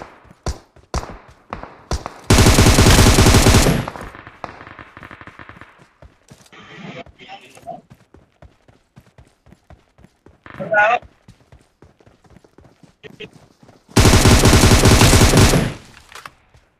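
Gunfire in the mobile shooter BGMI: two loud, sustained bursts of automatic fire and one short burst, separated by quieter footsteps and game sounds, with a person talking over parts of it.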